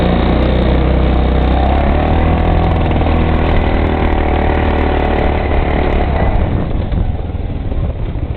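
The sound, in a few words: Hammerhead SS250 mini bike engine sputtering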